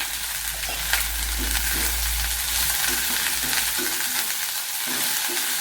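Chopped cabbage and half an onion sautéing in a pan for a Kerala-style dish, a steady, close sizzle with soft intermittent scrapes of stirring and no voices.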